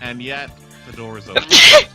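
A single sharp sneeze bursts out near the end, loud and close, following a stretch of casual talk from a streamer.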